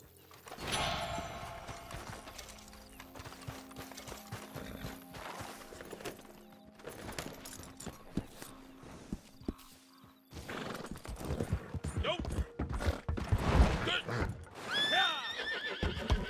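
Horse hooves clip-clop at a steady pace while a horse neighs and whinnies in the video game Red Dead Redemption 2, with people talking intermittently throughout.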